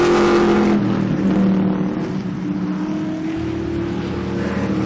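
A 1967 Mustang race car howls past at Lime Rock, its loud engine holding a steady high drone before the pitch drops and settles into a throatier roar as it moves on, with no voices.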